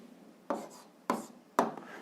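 A pen writes on paper as an answer is noted down for a school algebra exercise, with three short, faint scratching strokes spaced about half a second apart.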